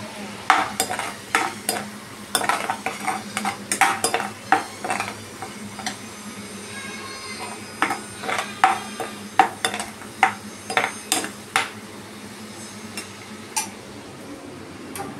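Chopped onion fries in a pan for a Bangladeshi-style basa fish dish, a steady low sizzle under repeated sharp clacks and scrapes of a utensil stirring against the metal, heard up close.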